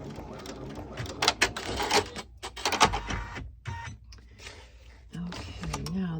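An embroidery machine stitches out a snap tab on a printed vinyl panel, with bursts of rapid mechanical clatter and whirring, pauses between runs, and faint voices nearby.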